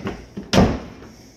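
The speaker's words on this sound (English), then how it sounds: "Let me make sure I lock it." An exterior house door, 1 3/8 inches thick, swings shut with a single firm thud, followed by a brief lighter rattle as it is locked, close by and alone.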